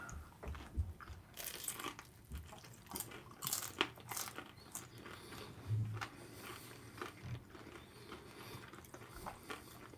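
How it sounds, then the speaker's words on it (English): Close crunchy bites and chewing on salmon belly tempura with sriracha sauce, repeated crisp crunches and softer mastication sounds over about ten seconds, with no talking. "Let me try the salmon belly with a little of the sriracha sauce."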